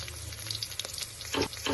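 Green chillies, white sesame seeds and cashew pieces sizzle steadily in hot oil in a pan, with a few louder bursts of frying as they are stirred, alone without speech.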